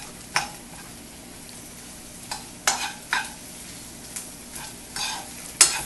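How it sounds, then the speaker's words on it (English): Cheese empanada filling sizzles and fries in a pan while being stirred, with a steady low sizzle broken by several sharp scraping stirs of a utensil against the pan, close and fairly quiet, no talking. "It's almost done here. And after this, I'm just going to mix everything together."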